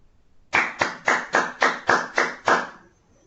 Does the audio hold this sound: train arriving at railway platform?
no